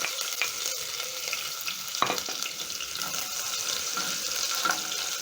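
Onions frying in a pot for a matoke with peas stew, a steady broadband sizzle running throughout with a few soft clinks and a brief spoon knock midway.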